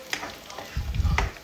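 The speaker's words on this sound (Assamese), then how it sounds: "এয়া তেলতে পিঁয়াজ দি ল'লোঁ" Onions dropped into hot oil, a soft sizzle that swells into a steady crackling fry with a low bubbling rumble, close and alone.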